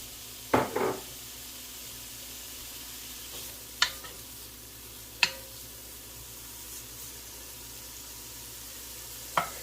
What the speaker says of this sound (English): I have 6 ounces of bacon that I've kind of diced up, and we're going to cook this until it's nice and crispy.